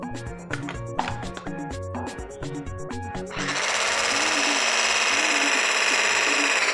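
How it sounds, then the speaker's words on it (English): Batter for mousse and muffins being whisked, opening with mixed clattering and tonal sounds before settling into a steady, continuous loud rapid whirring that runs to the end. "And I'll whisk."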